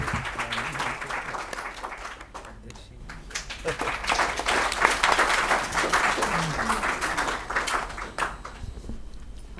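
An audience at a panel discussion about the novel Ret Samadhi claps, giving a sustained round of applause that swells in the middle and then fades, with some voices murmuring.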